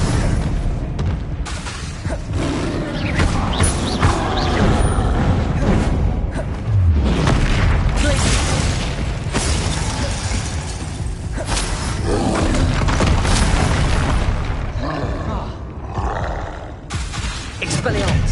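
Repeated fiery spell blasts in the Hogwarts Legacy video game, a dense barrage of booming, roaring bursts over a continuous rumbling combat background, with a voice calling out spell names throughout.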